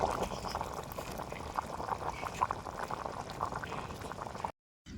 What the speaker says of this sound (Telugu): ఏ విధంగా ఉడుకుతుందో చూడండి. మన కుండ చికెన్ అయితే కొత్త కొత్త కొత్త కొత్త లెక్క ఉడుకుతుంది.